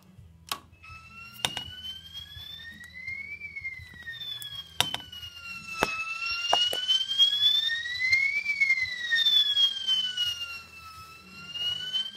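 A fire alarm wails steadily, its pitch sweeping slowly up and down, loud and continuous, punctuated by a few sharp clicks.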